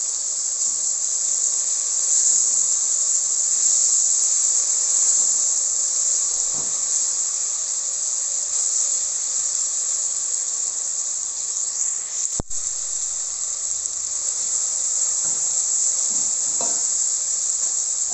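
Crushed garlic sizzles in oil in a pot as it is stirred for jollof rice, a steady bright frying hiss, close and continuous, with one sharp clink midway.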